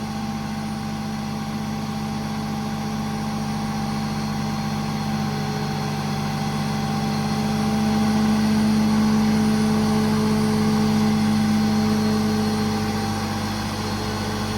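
A crane boom on a 2012 Freightliner M2 service truck, an IMT 10000 crane, extends and winches down with a steady hydraulic and engine drone that swells slightly midway, loud and continuous with no talking.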